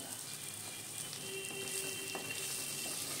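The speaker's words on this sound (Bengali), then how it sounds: "এগুলোকে এবারে ঢেকে রেখে আমি 5 থেকে 6 মিনিটের জন্যে গ্যাসের ফ্লেমটা একদম লোতে রেখে আস্তে আস্তে করে ভেজে নেব।" Bitter gourd fries slowly under a lid on a low gas flame, giving a soft, even sizzle with a faint occasional tick, quiet and continuous.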